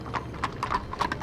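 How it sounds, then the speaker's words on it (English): Horse hooves clip-clopping in a Sherlock Holmes video game, several quick irregular hoof strikes at moderate distance over a low ambient hum, with no talking. "Those invisible horses are ridiculous."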